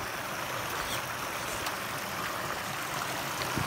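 A small, beautiful mountain river rushes and burbles continuously nearby, a steady wash of water noise with no talk over it.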